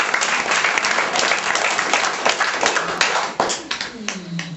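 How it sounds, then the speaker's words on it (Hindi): An audience gives sustained, loud applause, dense clapping that fills nearly the whole stretch before thinning slightly near the end, with a voice faintly underneath. "सभी जोरदार तालियां बजाइए इस बात के लिए।"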